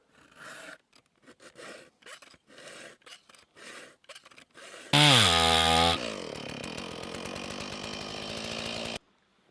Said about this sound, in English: Got my saw stuck.